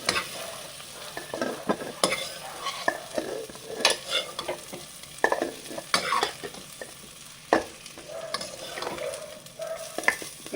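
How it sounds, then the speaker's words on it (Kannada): Green chillies frying in a pan for a raw jackfruit pulao, with soft crackling sizzle and repeated sharp scrapes and knocks of a spatula stirring, near and fairly quiet, no talking. "ಈ ಹಸಿಮೆಣ್ಸಿನ್ಕಾಯಿ ಹುರಿತೀವಲ್ಲ, ತುಂಬ ಘಮ ಘಮ ಅಂತದೆ"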